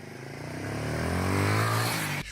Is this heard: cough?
no